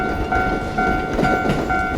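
A train rolls past a railway crossing at Saidaiji in Nara, loud and close, with a steady rumble and the crossing bell's repeated two-tone ringing over it.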